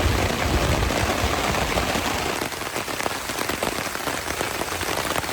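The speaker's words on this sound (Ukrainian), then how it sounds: "насолоджуюсь краплями дощу" Steady, dense rain patters on a covering overhead in a forest, a continuous close hiss of drops with no voices.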